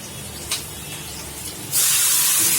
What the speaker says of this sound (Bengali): তো এই যে চিকেনটা কষাচ্ছি